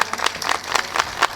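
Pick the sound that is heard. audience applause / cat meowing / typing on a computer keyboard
audience applause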